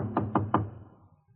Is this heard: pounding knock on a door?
yes